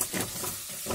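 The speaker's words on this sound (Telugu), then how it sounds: "తెల్లగడ్డలు వేసుకున్నాం ఒక్కొక్కటి వేసుకొని మనం వేగించుకుందాం" Thinly sliced garlic frying in a pan gives a steady, soft sizzle with a bright hiss and faint crackle, continuous and close, with no talking.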